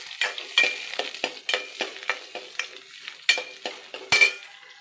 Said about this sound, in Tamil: வெங்காயம் சேர்த்துட்டு நல்லா கிண்டிக்கோங்க.